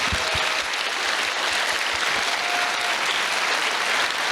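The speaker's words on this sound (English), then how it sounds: "So a big applause to the complete stage team." Loud, dense applause from a large convention audience at the opening ceremony of a furry convention, continuous clapping filling the whole stretch with no speech.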